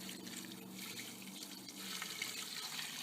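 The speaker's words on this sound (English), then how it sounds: "take water and just pour it on there, which is what I'm going to do here." Water is poured from a container onto campfire embers, a continuous splashing, hissing pour that grows slightly louder in the second half.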